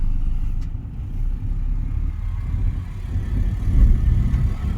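A Toyota Etios Liva VXD diesel car on the move, a steady low engine drone and road rumble heard from inside the cabin, smooth and continuous with slight swells and no talking.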